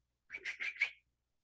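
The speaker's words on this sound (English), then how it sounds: "How many times you called your dog with a whistle?" A whistle calling a dog gives four quick, bright blasts in close succession, loud and clear, lasting under a second with no other sound around it.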